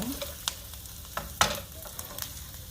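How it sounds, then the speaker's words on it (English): Whole tomatoes frying in a pan for homemade chunky pasta sauce: a soft background sizzle broken by several sharp clicks and scrapes of stirring, close by and without talk. "And then you are going to put them in the fry pan."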